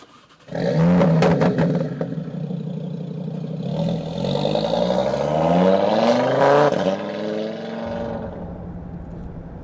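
A modified Audi RS3 pulls away and drives, its engine note rising through revs after a quiet start, with shifting harmonic sweeps, a brief rattle, and a steady loud cabin drone easing off near the end.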